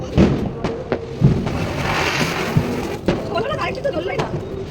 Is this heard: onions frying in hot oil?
no